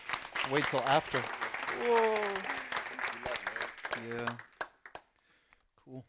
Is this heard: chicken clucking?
no